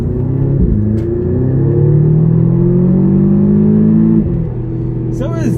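A 2012 Audi TTS accelerating hard in sport mode: a loud, close engine note rising steadily in pitch, a brief dip as it shifts gear, then the climb resumes before easing off, with road rumble underneath.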